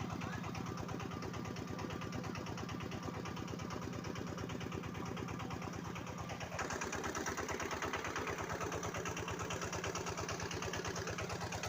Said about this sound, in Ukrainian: Працює генератор. світить лампа.